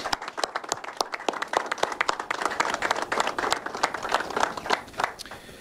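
An audience at a Florida governor's event with Manatee County law enforcement claps in a lively round, sharp individual hand claps crowding together into steady applause close by, with no one speaking.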